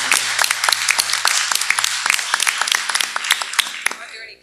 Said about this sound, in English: Let's applaud the name, guys.